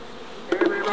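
Bees swarm around an opened hive box during a brood comb swap, a steady close buzzing that briefly swells louder as individual bees pass near.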